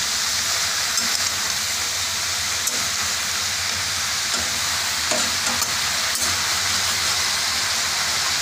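Crushed ginger and spices fry in a pan, giving a continuous, even sizzle with faint stirring clicks and no talk.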